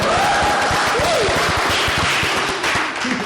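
Loud, dense clapping from a few people in a small podcast studio for a student presidential candidate at Universitas Negeri Malang, with voices talking and laughing over it throughout.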